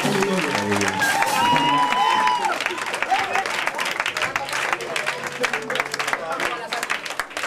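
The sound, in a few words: audience applauding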